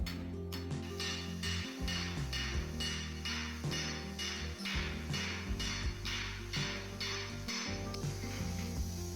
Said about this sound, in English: the joint is carefully hammered to flatten the race seam and blend it smoothly with the surface of the vessel